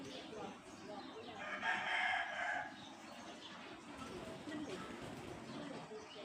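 A Korat breed rooster crows once, a clear mid-distance call lasting about a second, while people talk over steady outdoor background noise.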